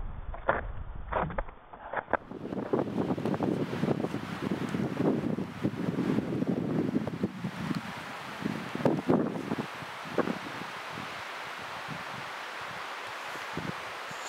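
Wind blowing on a snowy mountain during a snowshoe hike toward the Keilberg, a steady rushing gust with rustling and buffeting against the microphone, loudest early on, then easing.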